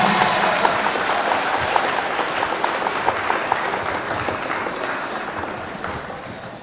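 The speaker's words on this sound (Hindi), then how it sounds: "गुजारिश कर रहा हूं आपके महबूब शायर हाशिम फिरोजाबादी से जोरदार तालियों से।" A large crowd at a mushaira poetry gathering breaks into loud, sustained applause, a thick continuous roar of many hands clapping that eases slightly toward the end.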